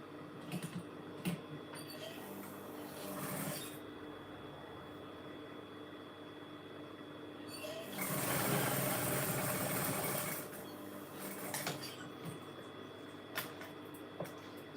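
A sewing machine stitches a piece of blue fabric for a drawstring chocolate gift box, its motor whirring in short runs with a louder, steadier burst near the middle, close by and with no talk.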